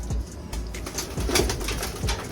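Pet pigeons coo softly before feeding, with a few low, throaty calls and light rustling, close by and fairly quiet, with no speech.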